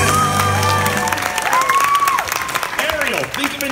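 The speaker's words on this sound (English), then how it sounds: "A round of applause for Ariel and Vincent!" Crowd applause and cheering at a Monsters Inc Laugh Floor comedy show, a dense burst of clapping heard together with a voice speaking over it.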